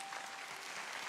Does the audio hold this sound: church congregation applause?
yes